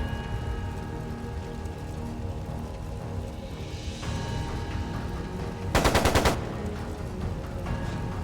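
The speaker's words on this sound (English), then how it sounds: "It sounded like a machine gun." Machine gun fire in the video game Trails of Cold Steel II: a short, fairly loud burst of rapid automatic shots near the middle, set over a steady hum of game background sound.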